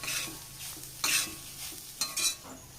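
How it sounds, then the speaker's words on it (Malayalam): Kerala-style clam meat roast is stirred in a pan over a low flame, with a soft sizzle under quick, bright scraping strokes of a spoon; no voices. "ലോ ഫ്ലെയിമിൽ വെച്ചിട്ട് നല്ലപോലെ ഇളക്കി കൊടുത്താൽ മതിയിട്ടാണ്"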